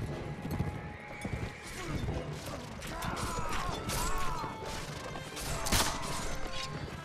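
Horses neigh and hooves clatter in a chaotic video game battle, whinnies rising over thudding hoofbeats, clanks and crashes of combat, fairly loud and continuous.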